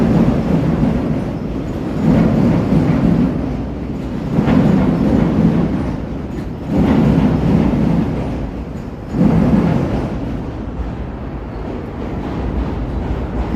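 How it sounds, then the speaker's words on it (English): Chicago Green Line elevated train rumbling across the South Branch Chicago River bridge at noon, a loud steady roar with rhythmic surges of rolling cars and wheel clatter, no voices. "There's the green line heading across the South Branch Chicago River."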